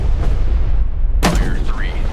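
Depth charges fire and detonate in Destroyer: The U-Boat Hunter, a World War II naval combat game: a loud low rumbling roar builds, then a sharp booming blast at about midway, with rising whistling tones after it.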